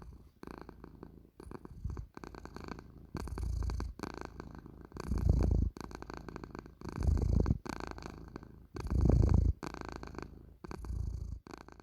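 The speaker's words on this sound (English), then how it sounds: "bassy kind of snore, isn't it, that cat's got going on" Titus the cat purring with a deep, bassy snore-like rumble, close and steady, in regular rising and falling breaths with no talk over it.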